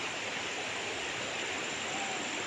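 A clean mountain-fed river flows past a farm lot in Liliw, Laguna, giving a steady, broad rushing hiss of running water with no break or change and no voices heard.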